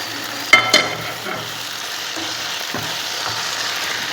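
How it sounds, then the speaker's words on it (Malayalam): Fried sausage being stirred into sizzling chilli sauce in a pan, with a steady close frying hiss throughout and two sharp spoon-against-pan knocks near the start. "അടുത്തതായി നമുക്ക് നമ്മൾ ഫ്രൈ ചെയ്ത് മാറ്റി വെച്ച സോസേജ് ഇതിലേക്ക് ചേർത്ത് കൊടുക്കാം."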